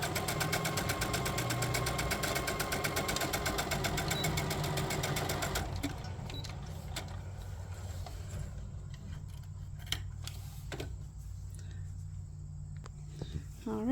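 A sewing machine stitching a boxy bag runs in a fast, steady mechanical whir for several seconds, then stops, leaving quiet handling noises and clicks while a person talks.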